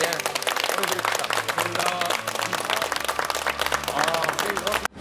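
A studio audience on a Korean TV variety show keeps up dense, continuous applause for a full stretch, with voices or tonal sound riding over the clapping until it cuts off abruptly.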